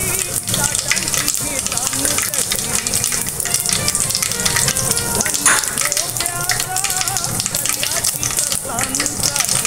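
Asafoetida hits hot oil already holding popped mustard and cumin seeds, giving a continuous, close, even sizzle with fine crackles throughout.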